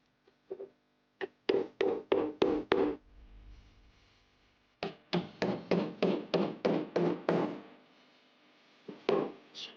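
Wooden pieces cut on a CNC router are tapped together onto dowels in quick runs of sharp, close knocks, a few single taps and then two rhythmic bursts of about eight hits each.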